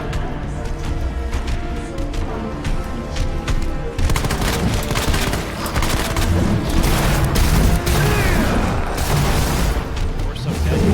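Shotgun blasts from the video game Resident Evil 2, loud and repeated over a dense game soundtrack and effects, with shots packed closer together after the first few seconds and no voice over them.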